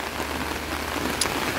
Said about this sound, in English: Then we've got a bit of a downpour now